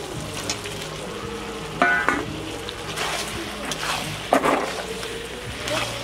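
Mutton curry frying in a pan as potatoes and papaya are added, a steady close sizzle with a couple of sharper crackling bursts and stirring noises.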